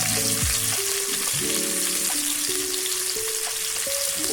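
Fish fries on a tawa over low heat, giving a continuous close sizzle with faint tonal undertones in the background and no talking.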